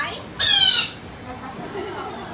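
A bird at a safari park squawks once, a loud, close, harsh call with strong harmonics, mimicking the calls of other birds, then quieter background sound follows.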